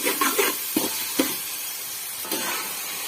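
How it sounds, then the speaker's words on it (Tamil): Tomatoes sauté in a hot pan for a village-style kola fish curry, a loud steady sizzle and hiss with a few soft stirring knocks near the start. "இப்போ வந்து பார்த்தீங்கன்னா நம்ம தக்காளியை கொட்டிக்கலாம் இப்போ நன்றாக வதக்கலாம்"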